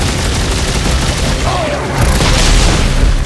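Rockets blast in a loud, dense barrage of booms and gunfire during Dead Space 3 gameplay, continuous and close, swelling louder toward the end with a voice faintly underneath.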